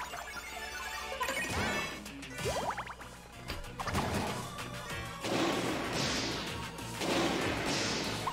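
Mega fire spell attack in Miitopia battle: a crashing, whooshing burst of flame effects with thuds and smashing impacts, loud and layered over game music.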